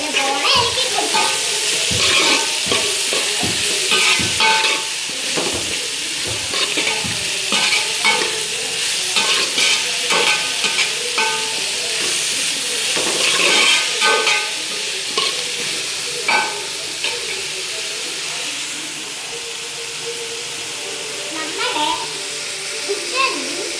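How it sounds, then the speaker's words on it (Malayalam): Chicken curry stirred in a frying pan: repeated scraping strokes over a steady sizzle, close and fairly loud, with faint voices in the background at times. "ഇനി നമുക്ക് നല്ലപോലെ ഇളക്കി കൊടുക്കാം."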